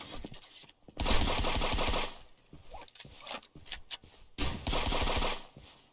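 Gunfire in the video game Friends vs Friends, heavy bursts of rapid shots in two long loud volleys separated by shorter sharp cracks and mechanical clicks, close and punchy with no talk over them.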